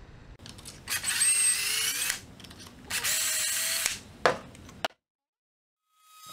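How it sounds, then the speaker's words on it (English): A power drill whirs in two bursts of about a second each, close by, drilling dowel holes through a doweling jig, followed by a brief knock and then silence. "I can put it on there and I can just hold it and drill it out"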